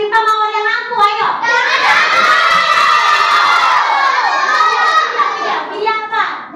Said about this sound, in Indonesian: tepuk tangan juga buat Dewan yang pintar